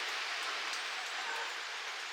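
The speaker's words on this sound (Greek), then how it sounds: "η βροχή δεν σταματάει." Steady rain falling in a fjord village in the rainy part of Patagonia, Chile: a continuous, even hiss of drops with no breaks and no talking.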